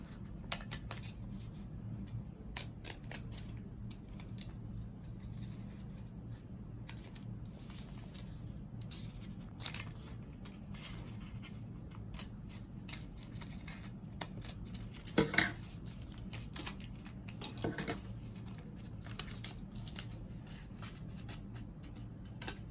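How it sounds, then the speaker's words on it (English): Scissors snip through folded paper while a no-sew face mask is made, giving quiet, irregular crisp cuts and rustles over a low hum, with a couple of louder snips partway through. "using our scissors."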